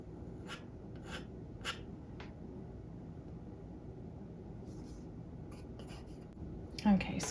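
Graphite pencil sketching an underdrawing on a blank canvas board, a faint dry scratching with a few short strokes and a brief louder scrape near the end, under a steady low room hum.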